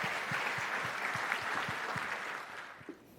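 Audience applause for the chairman at an entrepreneurship concert, a steady wash of many hands clapping with a few louder individual claps, tapering slightly near the end.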